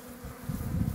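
A caught swarm of honey bees crowded into a small box gives off a low, fairly quiet buzzing hum that swells and thickens halfway through.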